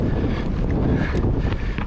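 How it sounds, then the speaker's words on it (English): Strong gusts of wind buffet the microphone during a mountain bike ride on a West Texas trail, producing a loud, continuous rumbling roar with brief flutters throughout. "Ooh, that wind."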